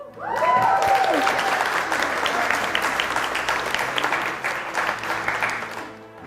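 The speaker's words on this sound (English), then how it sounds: "Your applause did that." A large audience at a women's empowerment and mental health speaking event breaks into loud, sustained applause and cheering, starting abruptly and holding steady before tapering near the end.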